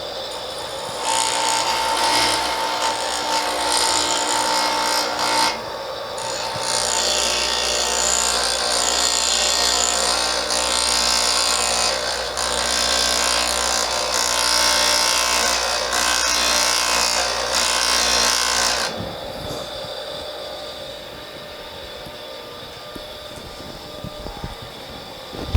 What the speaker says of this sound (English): Got me a file.